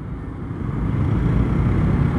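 Road traffic in Pampanga, Philippines: a steady, broad rumble of passing vehicles that swells slightly and holds, heard continuously from inside or near a moving vehicle, with no voices.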